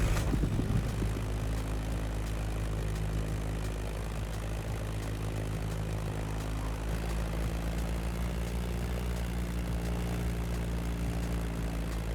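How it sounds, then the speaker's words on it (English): Beechcraft Staggerwing propeller plane in the video game The Crew Motorfest, its engine droning steadily with a low, continuous hum and buzz that holds evenly throughout, loud and close with no talk. "That Beechcraft Stagger Wing is truly a beautiful piece, isn't it? And a great choice for that flight."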